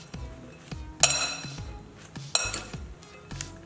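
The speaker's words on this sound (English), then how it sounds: "Take your spoon and fork, mix together, combine nicely as best as possible." A spoon and fork mix marinating chicken in a bowl, giving faint, scattered clinks and scrapes of metal against the dish at close range.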